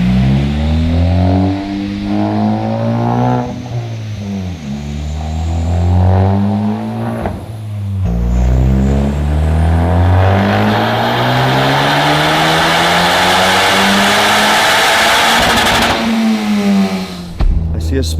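A Honda Civic Type R FK2 revs hard on a dyno, its engine note rising and falling through repeated loud sweeping pulls. The sound is close and sustained, with a final rasping burst near the end.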